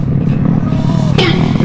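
Two-stroke motorcycle engines rev and rattle nearby, a buzzy mechanical roar with a sharp throttle blip toward the end.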